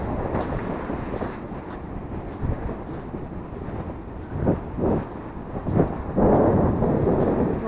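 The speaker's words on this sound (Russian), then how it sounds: "Холодный такой ветер." Cold wind buffets the microphone on the Crimean seashore, a loud, gusty roar swelling and dropping in uneven bursts, with no talk.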